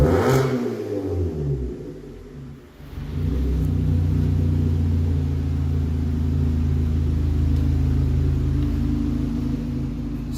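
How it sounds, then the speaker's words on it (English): A Vauxhall Insignia engine, just repaired after a head gasket fault, revs up after a brief dip, then holds a loud, steady, close rumble with no talk. "Give it a little rev."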